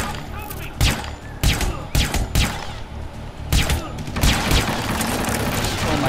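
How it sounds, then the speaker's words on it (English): Bursts of gunfire in Hitman Absolution, loud and close: several heavy shots and short volleys in the first half, then a steadier, denser barrage toward the end, backed by rumbling game sound. "Now he will start shooting me."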